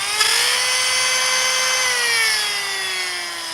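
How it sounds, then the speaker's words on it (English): A battery-powered Depths Tech die grinder detailing a chainsaw-carved wooden bear gives a steady, close, high-pitched motor whine that holds level, then drops slightly in pitch toward the end, with no talking. "This is a battery rechargeable die grinder from them."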